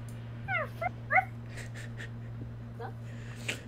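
A person imitates a chihuahua whimpering, giving a few short, high, rising whines and yips, close and moderately loud over a steady electrical hum, followed by softer breathy squeaks.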